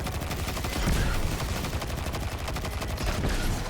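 Rapid gunfire from weapons in the video game Destiny 2, a dense, continuous barrage of shots at close range with no talking.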